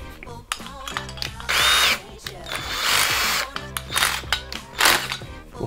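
A power drill fitted with a tile-cutting bit whirs in several short bursts of a few seconds each, with clicking and handling noises between them, close by.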